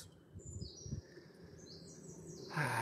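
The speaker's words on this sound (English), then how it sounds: "Lovely listening to the birds" Birds chirp and sing outdoors on a sunny Irish summer day near an apple tree and flowers, with several faint, high tweets over a soft, low background murmur.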